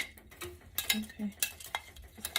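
Meatballs and onions being stirred in a soup pot for Mexican albondigas: a few soft scraping and clinking strokes of a utensil against the pot, with light bubbling between them and no talking.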